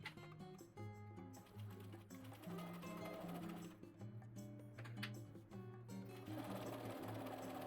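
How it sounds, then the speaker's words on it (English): Shorts fabric feeds through a sewing machine along the inside leg seam, a continuous close chatter of fast stitching with slight speed changes throughout and no voices. "I'm sewing with the inside leg seam on the top."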